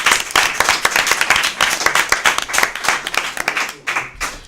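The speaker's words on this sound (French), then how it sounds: "Et on peut vous applaudir." Lively applause from an audience at an evening live broadcast launching the 2014 Gay Night event, with dense, close clapping and a few individual claps standing out, fading slightly near the end.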